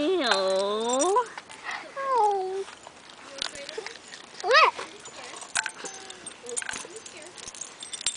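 A dog heard indoors, giving high whimpering whines and short yelps in bursts, mixed with other small animal sounds and people talking softly around it.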